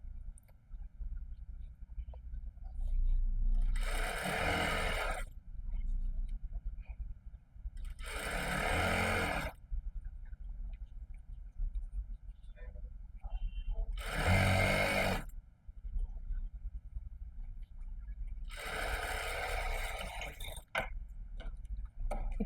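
A sewing machine stitches the main fabric of a pleated maxi dress in four separate bursts of fast, steady whirring, each a few seconds long, with quiet pauses between them.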